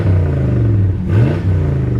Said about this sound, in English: This has got a great sounding engine.